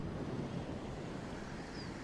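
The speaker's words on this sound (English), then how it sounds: "just currently looking out over the sea" Sea waves roll and wash steadily along the Yorkshire coast, heard as a continuous broadband surf roar mixed with wind buffeting the microphone, with no talking.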